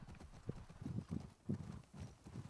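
A horse walking in the video game The Last of Us Part II, with a steady, fairly close clip-clop of hooves in an even walking rhythm, quiet overall with faint background ambience.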